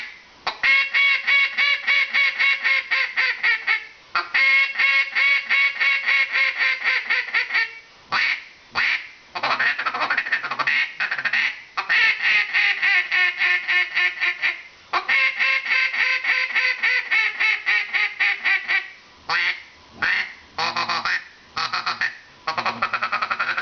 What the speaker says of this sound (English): Just ask them about duck calling.